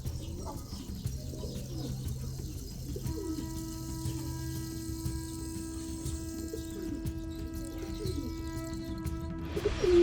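Soft, low coos from Spanish Chorrera pigeons repeat on and off against a quiet indoor background at a fancy pigeon farm, with faint chirps and a louder rustle near the end.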